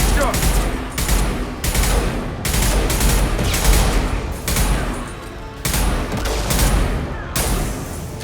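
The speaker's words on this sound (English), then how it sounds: "Firing concussive shot!" Concussive shot abilities go off in Mass Effect Legendary Edition combat, several loud concussive blasts in rhythmic bursts amid dense battle noise, with gunfire and voices mixed throughout.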